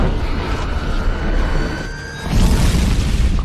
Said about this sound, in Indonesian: Ketika drone terjatuh, drone itu pun meledak.